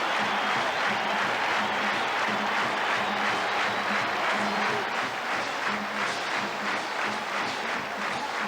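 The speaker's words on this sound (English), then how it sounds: "Listen to that crowd. Everybody's on their feet welcoming out this 1993 squad." A stadium crowd roars and applauds steadily as the 1993 Iowa Hawkeyes take the field for a college football game against Tulsa, a dense, continuous wash of cheering and clapping.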